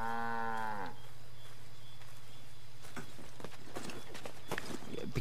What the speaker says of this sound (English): Because of this stupid cow, I cannot move.